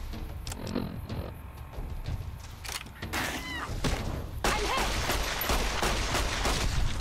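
Pistol fire in Fallout: New Vegas: a rapid run of sharp shots and thuds builds into dense, loud game combat noise with impacts and mechanical clatter.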